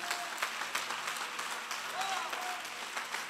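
A church congregation applauding during a sermon, a soft, continuous patter of many hands clapping in a large room, with a voice heard over it.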